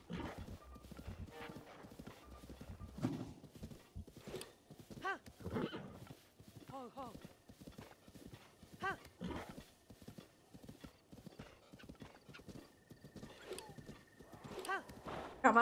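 A horse in the video game Zelda: Breath of the Wild gallops with rhythmic clip-clopping hoofbeats and lets out whinnying neighs throughout, with a person talking intermittently over the game sounds.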